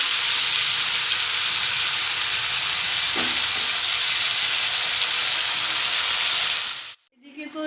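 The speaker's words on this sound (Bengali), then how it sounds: "একটু কিছু সময় নিয়ে ভালো করে কষিয়ে নিতে হবে।" Chicken manchurian sizzles and fries loudly in a pan, a dense steady crackle with a brief stir clatter partway through, then the sizzle cuts off abruptly near the end.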